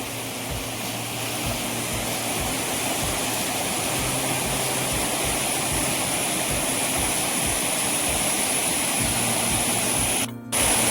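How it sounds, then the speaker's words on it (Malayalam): River water churns and rushes over rocks in hilly Idukki countryside, a loud, unbroken roaring wash heard close by, steady throughout with a brief dip just before the end. "വെള്ളം കുത്തി മറിയുന്നതാണ്."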